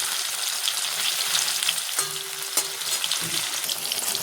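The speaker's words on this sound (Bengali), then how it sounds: "এবার আমি পনিরটা ছেড়ে দেবো" Paneer fries in hot oil in a pan with a bright, constant sizzle, a couple of clinks and brief tonal rings from the cookware, and no speech.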